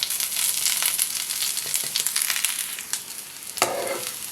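Drumstick leaves and grated carrot sizzle and crackle in a hot pan with oil, a dense steady frying hiss with stirring scrapes and a sharper clatter near the end.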